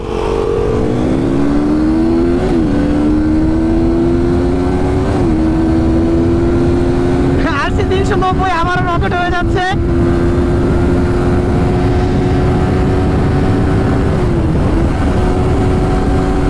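A KTM RC 390 motorcycle engine running hard while riding, a loud continuous drone holding a steady pitch. A short burst of shifting revs comes in the middle and brief voices are heard.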